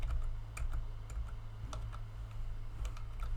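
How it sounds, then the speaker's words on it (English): Keys click on a computer keyboard as code is typed, a quiet run of irregular taps over a steady low hum, with no speech. "what you see me doing here is I'm typing print"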